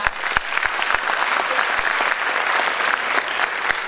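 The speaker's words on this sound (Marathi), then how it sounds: "तर त्यांच्यासाठी एकदा जोरदार टाळ्या." At an annual stage event, an audience gives dense, sustained applause that fills the room loudly and evenly for several seconds, with a few sharp individual claps standing out and no talking over it.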